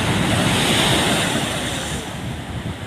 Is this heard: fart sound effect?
no